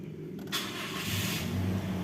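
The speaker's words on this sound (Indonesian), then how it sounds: "Coba starter ya mesinnya," Cold start of a 2006 Toyota Innova petrol engine: a starter crank around half a second in, then a steady idle hum that stays close and moderately loud for the rest of the clip, with no talking.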